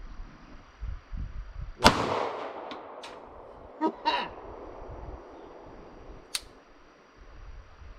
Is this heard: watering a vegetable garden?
no